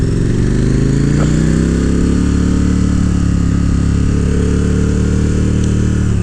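A 2018 KTM 1290 Super Duke R motorcycle engine drones steadily while riding, a loud continuous low rumble with slowly shifting pitch and no talk.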